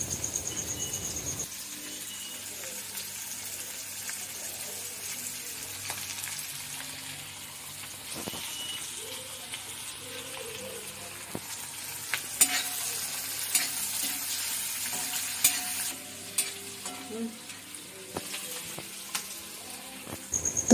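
Garlic sizzles in a pan in a village kitchen in the Konkan, a soft steady frying hiss with scattered scraping clicks of a utensil stirring, plus faint background chirps.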